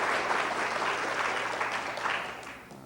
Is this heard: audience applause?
yes